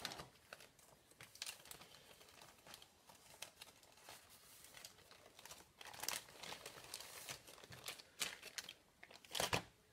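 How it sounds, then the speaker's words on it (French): Small plastic blister packs being snapped shut by hand during action figure reassembly, a string of quiet, irregular crinkles and clicks with a few sharper, louder crackles near the end, no talking. "Donc je vais fermer mes petits blisters."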